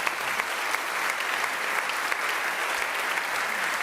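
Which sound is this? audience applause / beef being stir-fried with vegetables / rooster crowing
audience applause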